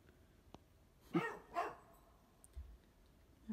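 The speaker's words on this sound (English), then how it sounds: "And the dogs have been out running around in it all day." Two loud, close barks from dogs out in the snow, spaced about half a second apart, then quiet outdoor background with a few faint knocks.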